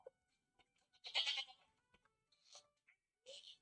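Sheep bleating on a video game farm, a few short separate bleats with gaps between them, fairly close and moderately loud, with no talk over them.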